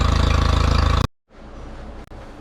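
A Mercury 60 hp four-stroke outboard engine idles with a steady, close, pulsing rumble, cuts out abruptly, then returns as a quieter, even throb.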